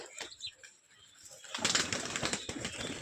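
Flying pigeons flutter and call softly nearby, and a burst of wing flapping rises in the second half.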